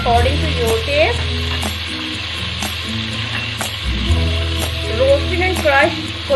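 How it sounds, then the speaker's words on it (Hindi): Ground spices for Lahori chole fry and sizzle in a hot pan while a spoon scrapes and stirs them in a steady rhythm, loud and close, with a voice talking over the cooking. "हल्का सा भून लेंगे ताकि इसका कच्चापन और स्मेल खत्म हो जाए।"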